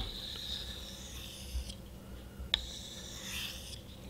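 Knife blade stroked along a whetstone, two long rasping scrapes with a sharp click between them, close and steady with no talking.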